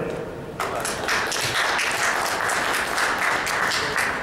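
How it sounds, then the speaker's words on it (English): Trade show audience at a self storage industry event breaks into a round of applause for a speaker, starting abruptly and holding as dense, steady clapping from a sizable crowd. "Please give a round of applause for Mr. Ken Turley."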